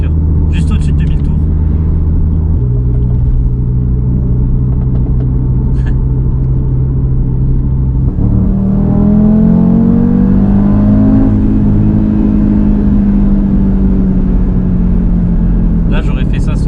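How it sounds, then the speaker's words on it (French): A car engine drones loudly inside the cabin just above 2000 rpm, a steady low hum that shifts pitch partway through as the revs change, with people talking over it. "ça bourdonne à mort dans la voiture. Juste au-dessus de 2000 tours."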